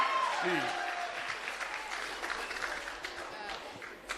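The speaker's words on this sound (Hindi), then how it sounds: "अरे तालियों की गड़गड़ाहट" An audience at a Chhattisgarh development event claps in a dense, steady burst that runs the whole time, fairly faint, with a voice talking over the start.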